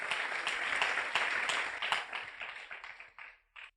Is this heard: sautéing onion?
no